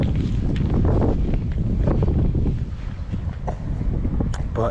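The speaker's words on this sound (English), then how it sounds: "The only thing that's going to be a pain is the wind." Strong wind gusts buffet the microphone beside a fly-fishing pool on the River Kamp, a loud, continuous roar that dips briefly and then rises again.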